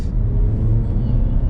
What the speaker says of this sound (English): Let's change the mode to dynamic. Slightly traffic, but let's put our foot down.